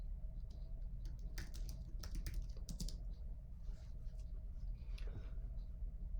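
Quiet, close typing on a computer keyboard: scattered clusters of soft key taps over a low rumbling background hum.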